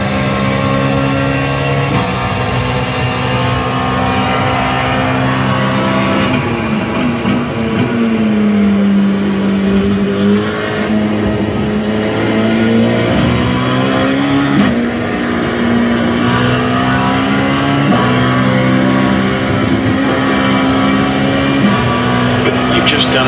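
A race car engine in a racing simulator game on the Red Bull Ring circuit drones steadily and loudly throughout, its pitch rising and falling with shifts and corners as the lap goes on.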